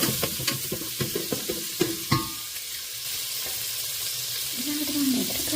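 Prawns fry with crushed ginger in a pan, with a steady sizzle under a series of close spoon taps and scrapes from stirring, and a voice briefly heard near the end.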